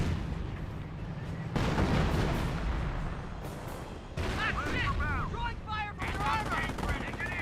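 Anti-tank guns and other weapons fire in a Company of Heroes battle, with loud booming shots, bursts of gunfire and whistling effects layered over continuous battlefield noise.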